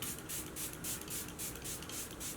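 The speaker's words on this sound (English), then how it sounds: "this is the Airbrush Flawless Setting Spray" Charlotte Tilbury Airbrush Flawless Setting Spray is pumped in about eight quick, evenly spaced misting spritzes, each a short soft hiss, close and fairly quiet with no talking.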